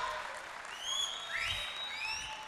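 A crowd applauds at a felicitation during a 2018 recognition program, a continuous wash of clapping with sharp rising whistles cutting through it.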